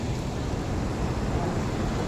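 River water rushes hard beneath Naraj bridge near Cuttack, heard as a loud, unbroken broadband roar with no pauses, blended with outdoor wind noise.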